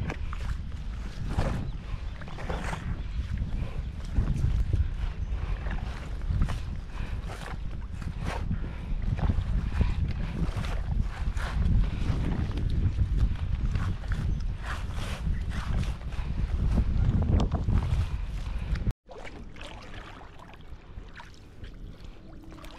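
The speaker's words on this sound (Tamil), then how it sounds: "அலை ஓவரா இருக்குது இன்னைக்கு காத்துனாலயா" Strong wind and heavy waves at sea aboard a fishing boat just after the net was cast, a continuous loud roar of gusts and water washing against the hull, steady throughout with a brief dropout near the end.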